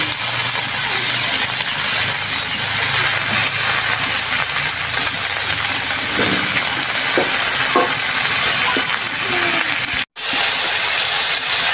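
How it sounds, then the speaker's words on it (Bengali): Ingredients for cabbage with red lentils are fried and stirred in a pan, in a village kitchen: a loud, continuous sizzle with scattered stirring knocks and a momentary dropout near the end. "সবকিছু সুন্দর করে ভাজি করে নেবে"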